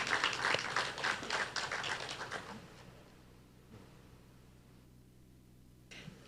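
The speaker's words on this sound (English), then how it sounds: "Please give him another round of applause." Audience applause at a film business forum, a burst of clapping that fades out over a few seconds into quiet room tone.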